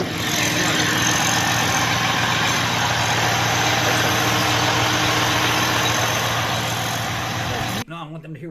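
A 1999 car engine idles steadily with a dense low rumble, loud and close, for most of the clip before cutting off sharply near the end.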